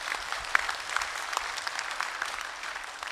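Steady audience applause fills a Shymkent comedy show hall, a dense, even patter of many hands at moderate loudness with no voices over it.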